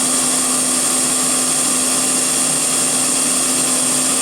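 A power tool cuts bearing tang slots in a Subaru EJ engine part after a thrust conversion, giving a steady, loud, high whine that holds unbroken and close throughout.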